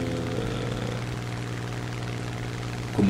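Spitfire F Mk.22 piston aircraft engine in War Thunder, a steady close propeller drone holding constant throughout.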